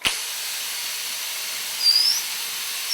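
Compressed air rushes from an M 21x250 sandblaster nozzle with the gate valve fully open. A sudden onset gives way to a loud, steady hiss that holds throughout, with a brief whistling rise partway through.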